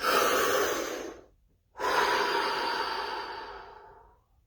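Two deep breaths during a guided relaxation session, a long close airy inhale fading out, a short silence, then a second long breath that slowly trails away, with no talk.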